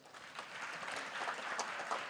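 Faint, distant applause from a crowd at a university graduation ceremony, steady clapping for about two seconds.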